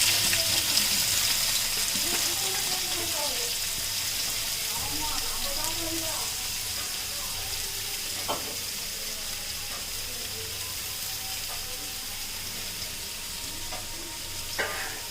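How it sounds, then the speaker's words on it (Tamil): Onions frying in hot oil in a pot while cooking vegetable biryani, a steady soft sizzle with occasional stirring scrapes, fairly quiet and continuous, with no talking over it. "அந்த ஆயில் கொஞ்சம் சூடான உடனே அதுல நம்ம எடுத்து வச்சிருக்க ஆனியனை"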